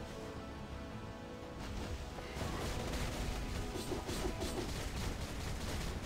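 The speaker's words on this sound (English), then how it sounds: "she stands in place for a solid 3 seconds shooting the pistols" Domino's pistols firing in Marvel Future Fight, a rapid continuous fusillade of game shots that grows louder midway and keeps rattling steadily, no talk.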